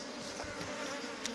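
A strong honeybee swarm buzzes at an open hive during honey super placement, a dense continuous hum that fills the air steadily without pause.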